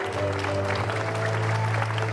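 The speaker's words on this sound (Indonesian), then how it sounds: "tepuk tangan dulu dong" Clapping from a studio audience during a TV variety show, a brief steady burst under humming background music tones.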